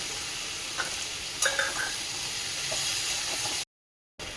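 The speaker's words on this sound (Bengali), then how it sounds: "আর টমেটো আদা একসঙ্গে নাড়াচাড়া করে নিয়েছি একটু টমেটোটা গলে গেছে" Tomato, ginger and chopped green chilli being stirred in a hot pan for a bottle gourd curry, a steady close sizzle with a few brief scraping clinks from the spoon, then a short silent gap.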